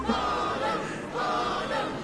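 Crowd cheering in the Professor Layton vs Phoenix Wright: Ace Attorney video game, a steady, dense roar of many voices swelling in two waves over a couple of seconds, with no separate speech on top.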